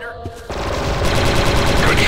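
Gunfire from the Star Wars Republic Commando video game, a rapid burst of loud blaster shots after a brief quieter lead-in, with game voices faintly underneath.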